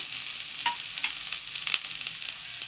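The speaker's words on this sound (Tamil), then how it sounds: "எல்லாத்தையும் சேர்த்து நல்லா வதக்கிக்கலாம்." Dried red chillies and green chillies sauté in oil in a pan, with a steady close sizzle and a few sharp scraping stir strokes across the spectrum.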